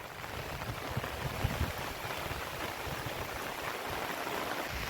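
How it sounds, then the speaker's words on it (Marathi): Steady, loud rush of rain and gusting wind, with rumbling low buffeting throughout and no voices. "बघा आता जोरदार पाऊस पण आलाय वारा आलाय"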